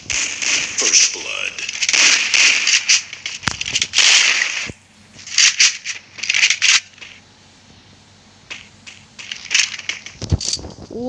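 Pistol shots ring out in the Free Fire video game, loud sharp cracks in bursts over busy game effects, with a voice talking at times.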